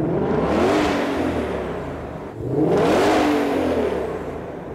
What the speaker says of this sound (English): he's gonna rev the engine very respectfully